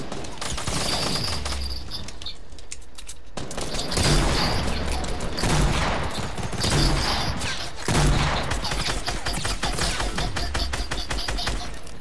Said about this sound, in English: Oh no, worst time to get shot at.